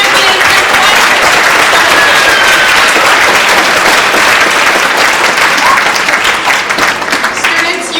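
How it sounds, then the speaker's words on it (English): An audience at a speech competition finals bursts into loud, sustained applause, dense clapping close by that carries on for several seconds and eases slightly toward the end. "Let's once again give a warm round of applause for our champions"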